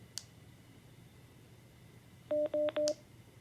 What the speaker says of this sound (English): you'll see a display and hear another tone, and the radio will then be turned off